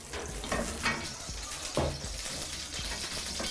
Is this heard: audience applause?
no